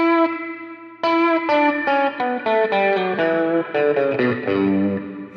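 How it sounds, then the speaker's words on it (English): An electric guitar runs through a Mooer Red Truck pedal with octave-up shimmer reverb: a sustained chord rings out, followed by a sequence of picked notes that bloom into a bright, layered wash. "So you can hear it's almost getting that kind of octave up shimmer verb sound."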